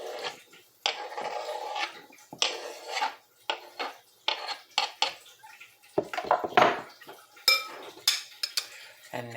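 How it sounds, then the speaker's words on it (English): A spoon scrapes and clatters as chopped tomatoes for bruschetta are scooped off a cutting board into a bowl. The close, irregular clinks, taps and scrapes keep coming with short pauses, and there is no talking. "I'm taking the cutting board to my bowl, and I am going to scoop it off"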